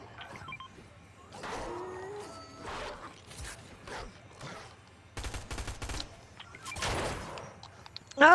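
Gunfire in a Fortnite Zero Build squads match comes in scattered bursts of rapid shots, with a denser, louder volley toward the end. Faint voices talk between the shots.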